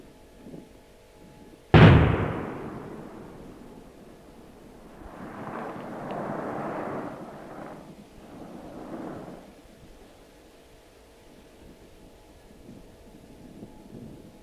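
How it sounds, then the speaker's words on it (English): A single heavy blast booms out in the mountains, then its echo rolls and rumbles away from peak to peak in long, fading waves across the distance, like thunder in the hills. "And the echo rolls and rolls away into the distance, from peak to peak, from mountain to mountain."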